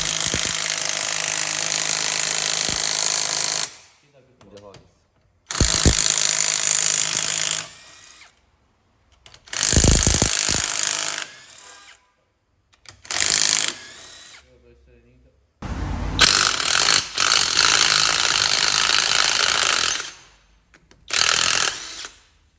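A Topshak 21V cordless impact wrench, rated 550 Nm and 330 Nm, unscrews bolts in several loud bursts of rattling hammering, each lasting one to four seconds and separated by short silences.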